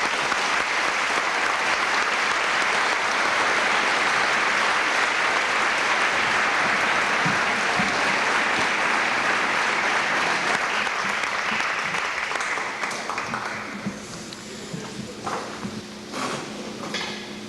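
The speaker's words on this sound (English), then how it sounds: "I guess we can have another round of applause and you guys can sit down." A hall full of people at a 1997 high school football banquet applauds in a dense, sustained round of clapping that holds steady, then thins out and fades near the end.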